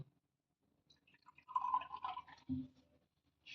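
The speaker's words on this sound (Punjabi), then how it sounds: "ਇੰਨੀ ਕੁ ਪਾ ਕੇ ਠੰਡਾ ਜਿਹਾ ਪਾਣੀ ਪਾ ਲਓ" Water pours briefly into a container with a gurgling, rising tone, close by and otherwise quiet.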